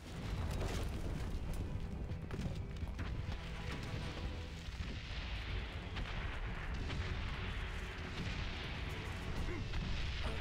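Dense, continuous battlefield din from the World War I game Valiant Hearts: The Great War, with booming artillery and gunfire filling the whole stretch, loud and unbroken, and a voice faintly audible underneath.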